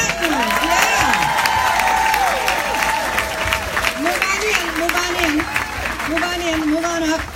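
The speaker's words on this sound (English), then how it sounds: "We need a round of applause for our diamonds and our platinums." A conference crowd gives steady applause and cheering for its diamond and platinum members, loud and continuous for the whole stretch, with whoops and voices mixed into the clapping.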